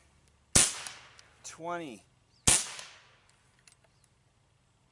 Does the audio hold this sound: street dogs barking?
no